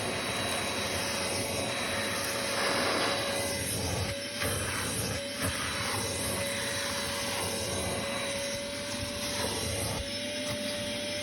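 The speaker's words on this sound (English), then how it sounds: "It's time to start vacuuming." Vacuum cleaner cleaning out the interior of a car, a loud, steady, close-up roaring whine that runs continuously with slight shifts as the nozzle moves.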